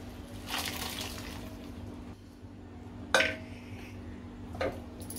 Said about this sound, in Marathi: आता आपले छोले आहेत ते पाण्यासकट आपल्याला पालकमध्ये घालायचे आहेत